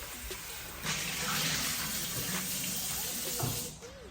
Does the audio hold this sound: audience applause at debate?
no